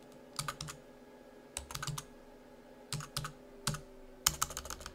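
Computer keyboard typing while entering labels in a LibreOffice Calc spreadsheet, heard as several short bursts of quick, close key clicks separated by brief pauses over a faint background hum.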